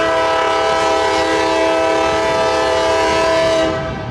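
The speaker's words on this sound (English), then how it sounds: "CSX southbound Butler Street in Hamlin got us a double stack container train." Up close, a southbound CSX double-stack intermodal container train at Butler Street in Hamlin sounds a long, loud horn over rumbling rail noise. The horn fades toward the end.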